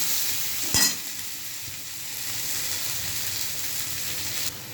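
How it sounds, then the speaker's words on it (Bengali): Onions fry in a pan with a steady, close sizzle and the occasional scrape of stirring, the hiss holding even throughout with a brief louder clatter near the start. "পেঁয়াজগুলোকে ভালো করে ভেজে নিচ্ছি"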